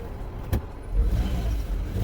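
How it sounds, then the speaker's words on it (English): Car engine running rough with a cylinder 5 misfire, a close, uneven low rumble with irregular surges and one sharp tick early on, no talking. "There is a misfire on this very car. It's not revving smooth"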